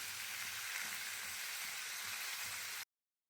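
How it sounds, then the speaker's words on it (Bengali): Prawns frying lightly in a pan with turmeric and salt, a steady close hiss and sizzle that runs without pause for nearly three seconds and then cuts off abruptly to silence. "মাছগুলোকে আমি হালকাভাবে ভেজে নিয়েছি"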